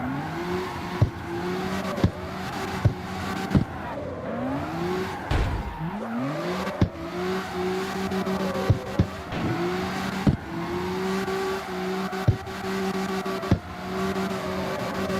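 A car drifting in the street-racing game CarX Street during club drift races, with a steady droning engine note, sliding tire squeal and rising revs, punctuated by regular sharp clicks, loud and continuous with no talk.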